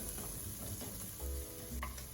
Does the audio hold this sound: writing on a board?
no